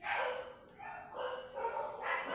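A household dog barks in a few quiet, muffled bursts, soft and somewhat distant, with a brief pause between them.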